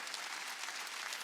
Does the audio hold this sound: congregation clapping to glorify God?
yes